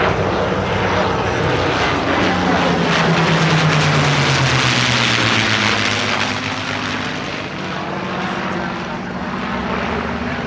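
A Twin Mustang propeller plane flies past at the Sun 'n Fun airshow, its engine drone loud and steady, rising and falling in pitch across the pass with a continuous broadband roar.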